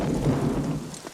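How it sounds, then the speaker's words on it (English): Rain falling at night during a thunderstorm in a film, with a low rumble of thunder rolling under the steady downpour before easing slightly toward the end. "It's night. It's raining."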